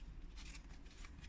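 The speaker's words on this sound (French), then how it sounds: "On coupe en deux." Scissors slicing a cardboard toilet paper roll in half for a recycled craft album, giving a brief, faint, crisp snip and rasp of blades through thin card, heard up close and alone.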